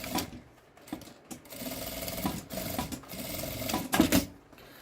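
A sewing machine stitches the fabric lining of a milk-carton box pouch, running in steady mechanical bursts with brief pauses, close and moderately quiet with no talking.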